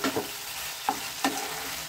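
Flat bean and mustard chachari curry cooking in a pan, a continuous close sizzle punctuated by three or four brisk stirring scrapes of a spatula.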